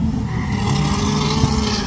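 The engine of a Chilton E9 car runs loud and close, a steady low, throaty rumble with slight surges, heard on its own for just under two seconds.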